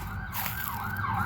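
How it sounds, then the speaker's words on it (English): An emergency vehicle siren wails in a rising and falling sweep, fairly distant and steady over a low background rumble, with no talking. "ignore the sirens"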